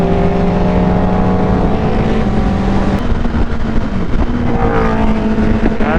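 Nardo Grey Suzuki Hayabusa motorcycle with a loud aftermarket exhaust on the STRR road, engine held at high revs in a continuous close roar with steady harmonic tones and pitch shifts as it runs.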